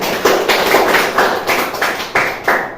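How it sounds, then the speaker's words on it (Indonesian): Students in a classroom clapping in unison, a crisp rhythmic pattern of about ten sharp group claps, near and loud with no voices. "Tepuk tangan untuk semuanya"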